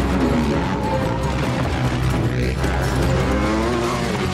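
Off-road stunt motorcycle flooring it while a stunt car reverses in a movie rooftop chase scene, a dense loud roar of engines and tire noise sustained throughout.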